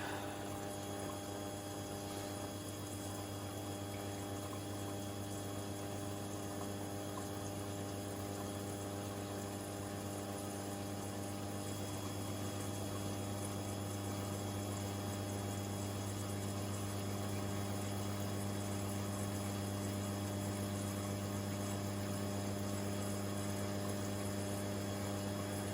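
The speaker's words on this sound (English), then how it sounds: "See the water coming in there as well from it's like spraying through one of the paddles" A Hotpoint WD64 Aquarius washer dryer fills with water on a 60°C colourfast cotton programme, giving a steady, unbroken hum of the inlet pump and flowing water with no talking.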